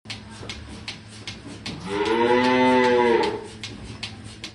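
A dairy cow on a farm lets out one long, loud moo in the middle of a low, steady barn hum, with faint rhythmic mechanical knocking running underneath.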